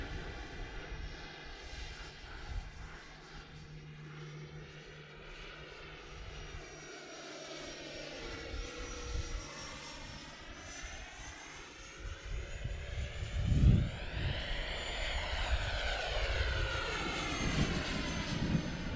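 An FMS F18 70mm Arctic Super Hornet RC electric ducted-fan jet whines steadily overhead, its pitch sweeping up and down in a Doppler shift as it speeds up through a turn and passes by.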